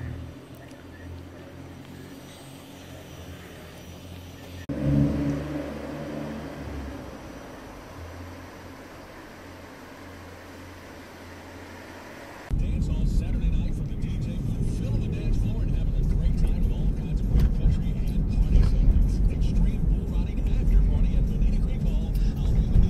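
Car driving through a small Texas town, with steady road and engine rumble that swells louder and denser partway through, plus a brief low surge early on; no talk.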